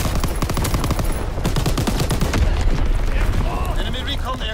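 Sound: incoming enemy artillery bombardment in Call of Duty video game

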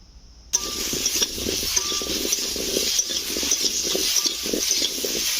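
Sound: potatoes frying in oil

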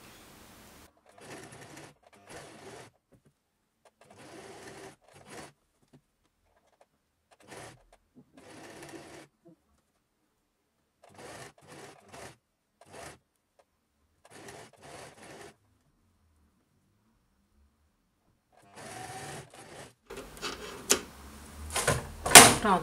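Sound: sewing machine stitching a blouse

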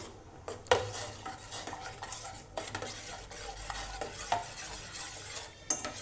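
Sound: stirring herbal decoction with jaggery in a pot

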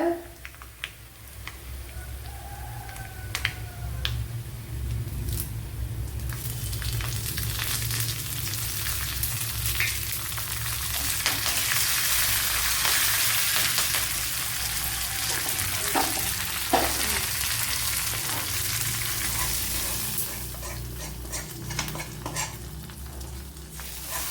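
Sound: dried red chillies sizzling as they are added to vegetable chickpea curry

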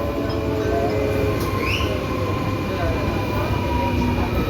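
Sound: train arriving

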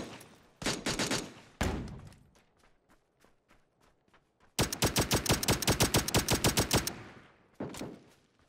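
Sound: gunfire in PUBG video game

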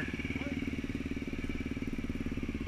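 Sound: trail motorcycle accelerating past

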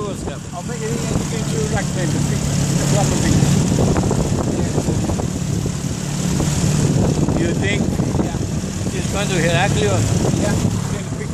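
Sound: boat engine as a boat comes back

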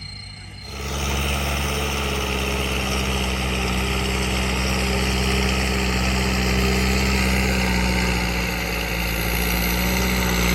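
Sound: Kubota L5018SP tractor turbo engine running

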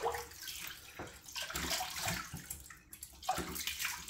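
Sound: cold tap water running for rinsing after a shave

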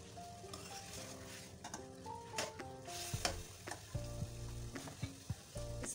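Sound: chicken korma cooking and being stirred in pan

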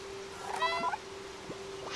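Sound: cat meowing in video game Stray

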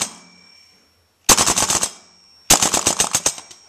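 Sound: KWA LM4 airsoft rifle firing full auto

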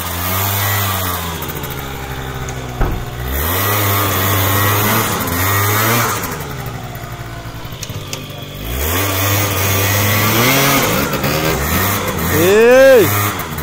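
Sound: MBK Booster moped engine revving with booster kit

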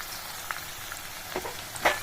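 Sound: hot oil poured sizzling into tomato pickle

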